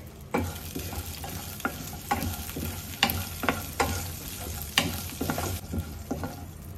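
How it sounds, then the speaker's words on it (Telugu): Green chillies and garlic sizzling in hot oil in a pan, with steady close frying crackle and repeated scraping stirs of a spatula throughout, no voices. "ఇది కొంచెం వేగిన తర్వాత ఒక 10 పచ్చిమిరపకాయలు వేస్తున్నాను"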